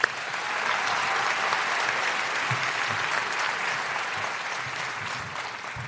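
Graduation audience at a Class of 2024 ceremony breaking into loud, sustained applause, a dense wash of clapping from a large crowd that holds steady for several seconds before easing slightly.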